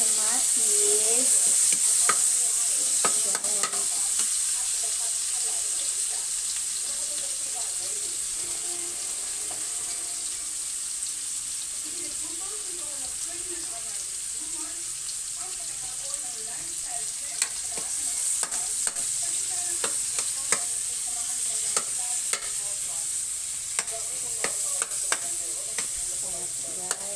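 Tomatoes sizzle and fry with garlic in a home-cooking pan, a steady bright hiss with scraping stir strokes throughout and a few faint voice fragments.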